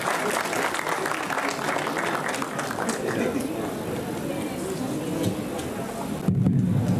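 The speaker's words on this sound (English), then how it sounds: "Let us all give a very huge round of applause for Madam" Audience applause for the chief guest at a district choral competition in Haflong, a steady, dense wash of clapping from a crowd that runs unbroken through the whole stretch.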